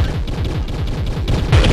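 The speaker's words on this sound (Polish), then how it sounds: "One wybuchają, zadają jakieś tam obszarowe obrażenia." Orbs exploding during a boss fight in the video game Trove, a rapid string of punchy game blasts in steady succession, ending in a louder, heavier burst.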